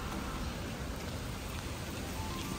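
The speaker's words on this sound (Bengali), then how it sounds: "জোরে বৃষ্টি আসছে" Heavy rain pouring down on a rainy day, a dense, even wash of steady hiss with no breaks, no voices.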